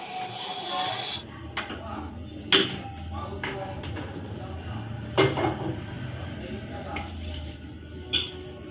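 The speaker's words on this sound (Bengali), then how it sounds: "নেমে পড়লাম খুন্তি নিয়ে, কড়াই নিয়ে রান্না" A spatula stirs and scrapes inside a kadai on a gas stove, giving scattered close metallic scrapes and occasional sharp knocks, with people talking over part of it.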